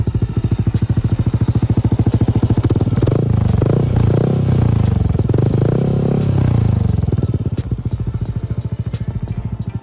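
Yamaha Aerox 155 scooter fitted with a new custom exhaust, its engine running loud and close with a rapid pulsing rumble throughout, swelling into a rev in the middle before settling back near the end.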